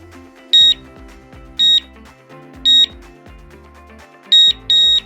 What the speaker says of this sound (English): You want to hold down the set button for 3 beeps, and then let go.